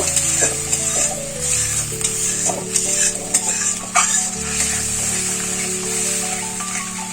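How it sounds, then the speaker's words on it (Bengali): Ground spice paste with a splash of water and turmeric fries in a pan, sizzling up close while a spoon stirs and scrapes, over a low steady hum. "বেটে রাখা মশলাটা দিয়ে দেব, অল্প একটু জল দেব, মশলাটা একটু কষিয়ে নেব।"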